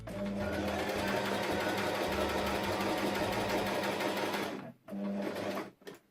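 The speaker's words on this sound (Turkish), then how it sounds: "Hemen makinemle geçiriyorum" A sewing machine stitches lace onto velvet fabric in a fast, steady mechanical whir, close and loud, pausing briefly near the end before running again and then stopping.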